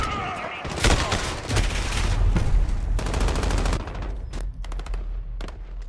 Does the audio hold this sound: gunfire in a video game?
yes